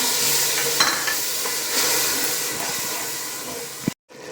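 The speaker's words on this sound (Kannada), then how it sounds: "ಈಗ ಚೆನ್ನಾಗಿ ಕುದೀತಿದೆ." A thick masala mixture with chicken stock bubbles and sizzles steadily in a pan, a constant hiss with occasional pops, ending in a brief cut to silence.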